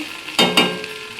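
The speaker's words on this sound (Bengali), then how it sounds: "আবার একটু এপিট ওপিট করে আমি কুঁদরিটাকে নাড়িয়ে দেবো।" Ivy gourd (kunduri) is stirred and turned while frying in a pan, giving two quick scraping clatters over a steady close sizzle.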